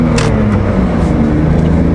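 A 2003 BMW 330i ZHP inline-six in fourth gear, held near 3,800 rpm on the highway, gives a steady, loud, continuous drone with a low engine tone and road and wind noise, and no talk over it.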